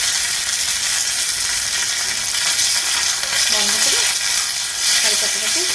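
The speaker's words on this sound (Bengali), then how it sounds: "এবার দিয়ে দিচ্ছি কয়েকটা কারি পাতা" Curry leaves crackle and fry in a hot pan, loud dense sizzling with stirring sounds, steady and close throughout.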